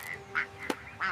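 A duck quacks several times, a few brief nasal calls spaced over about a second, fairly faint with a short splash-like burst in the middle.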